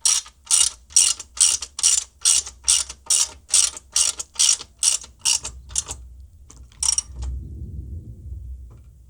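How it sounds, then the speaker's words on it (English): Socket wrench ratchet with a 5/8 socket tightening a bolt on an Outfitr EZ Fold platform e-bike rack: a steady run of about a dozen loud, close rhythmic clicking bursts, then it stops and faint low rumble remains. "And now we grab the 5/8 socket"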